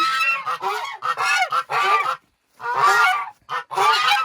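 Loud, close geese honking during breeding season in a rapid series of harsh, nasal calls, broken by a brief pause before more honks.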